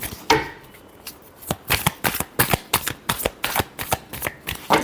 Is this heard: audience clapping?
no